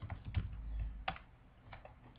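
Short, quiet bursts of keystrokes on a computer keyboard during Java coding, irregular clicks close to the mic with brief pauses between them.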